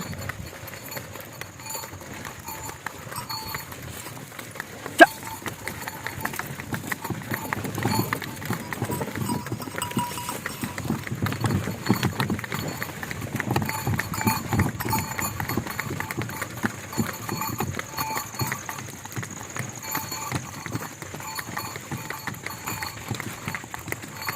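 A bullock cart rolls along a farm track while hooves clip-clop in a steady, continuous rhythm under a low rumble of wheels, with some faint talk in the background.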